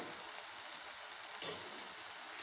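Drained pasta going into a pan of frying egg masala gives a steady close sizzle with a soft stirring scrape and one brief louder clink partway through, no voices.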